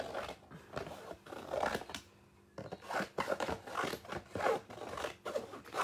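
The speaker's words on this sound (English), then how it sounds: "So what I want to do is I'm just going to cut these up quickly." Scissors snip quickly through fabric pieces in a busy run of short crisp cuts, pausing briefly near the middle before the rapid snipping resumes, close and moderately quiet.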